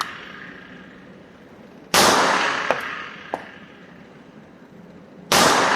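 Shots from a CZ 75 P-01 all-steel-frame pistol at a shooting range: two loud, sharp cracks about three and a half seconds apart, with a couple of faint distant pops from other shooters between them.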